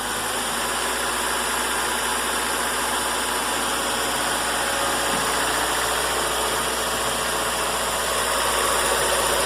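Honda D17A2 engine fitted with a D16Y8 cam idles steadily, a close, even mechanical hum with light ticking and high-pitched whine, continuous and without speech.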